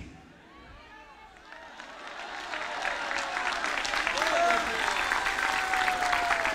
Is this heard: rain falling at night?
no